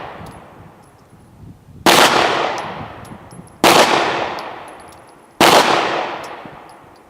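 Three loud, sharp 9mm pistol shots firing 115 grain ball rounds at an outdoor range, evenly spaced under two seconds apart, each followed by a ringing decay, with no voices.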